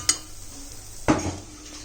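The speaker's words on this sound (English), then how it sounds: "you need to add the green chilies so that it gets fried well in oil" Ginger garlic paste and green chilies fry in oil in a pan, with a soft sizzle under two sharp metallic clinks of a spoon stirring, close and brief.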